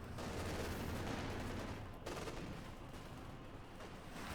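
Distant, faint gunfire rattles continuously in Company of Heroes 2 as shots are aimed at a Panther tank, a dense wash of crackling bursts with a brief dip near the middle.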